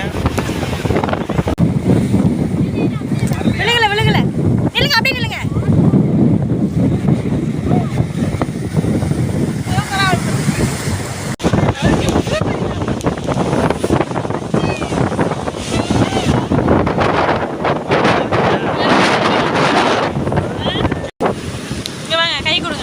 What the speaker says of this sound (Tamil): அலை வருது பெரிய அலையா வருது